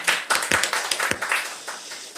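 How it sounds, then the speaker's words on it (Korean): A small church congregation claps at an Easter service, a short burst of a few distinct, uneven hand claps that thin out and fade within two seconds. "우리 박수 한번 해주시죠"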